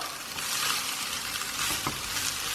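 Mint fried rice is stirred through in a hot pan, a continuous crackling sizzle with soft scraping sweeps and light knocks of the spoon, close and steady with no speech.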